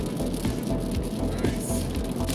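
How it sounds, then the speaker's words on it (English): Sudden rain falling on sagebrush country, a dense, steady hiss of drops on surfaces close around, continuous and fairly loud with no talking. "This rain just came out of nowhere."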